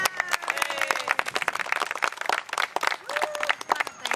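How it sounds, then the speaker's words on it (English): Round of applause at a neighborhood gathering, a lively burst of many hands clapping with uneven bursts and a few voices calling out over it. "Let's bring her out with a round of applause."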